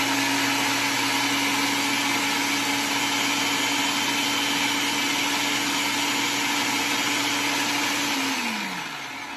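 Kitchen blender whirring steadily through eggs, salt and xanthan gum for keto pasta, a loud, even motor drone that holds for about eight seconds, then winds down with a falling pitch as it stops.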